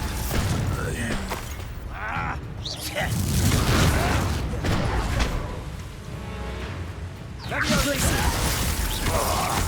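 Bombarda blasting spell detonating in Hogwarts Legacy, booming crashes with crumbling, shattering debris, landing in bursts alongside spoken words.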